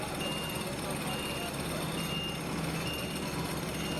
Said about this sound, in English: here comes their order, a lorry load of hot asphalt, which will be poured straight in to the spreader